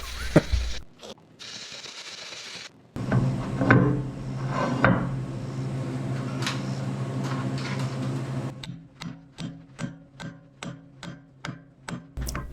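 Heavy sledgehammer blows from a 20-pound hammer ring out against the steel boom of a large Case 170B excavator, first as scattered loud metallic impacts amid workshop noise, then as a steady series of about a dozen sharp, evenly spaced strikes.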